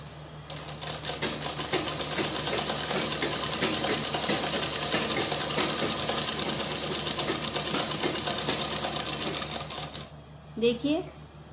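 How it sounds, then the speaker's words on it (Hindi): A sewing machine runs steadily for about ten seconds, stitching the folded corner of umbrella fabric with a fast, even mechanical rattle, then stops, followed by a brief voice. "फोल्ड करते हुए इसके कॉर्नर पे हमें यहाँ पे सिलाई लगानी है"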